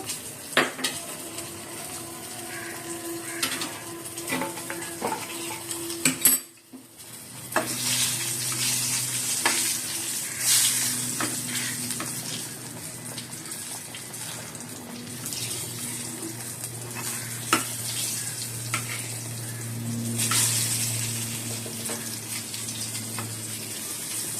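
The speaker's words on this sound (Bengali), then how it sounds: "এই যে ফুলকপি, দেখুন ফুলকপি দিয়েছি, আর একটু ফুটবে তারপর নামিয়ে নেব" Cauliflower cooking in a pan in a home kitchen, with a soft steady simmer and bubbling under scattered clinks of utensils and cookware, fairly faint and close, with no talk.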